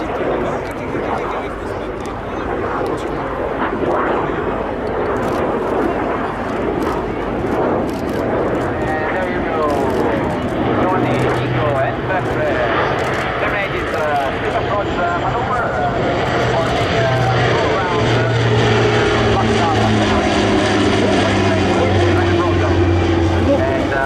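An Italian Air Force C-27J Spartan twin-turboprop performs a flying display at an international air show, with loud propeller and engine roar rising and sweeping past as an announcer talks over a PA throughout.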